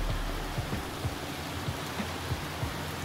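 Rain falls in a soft, steady patter, faint and even, with a few light drops ticking now and then and no talk over it.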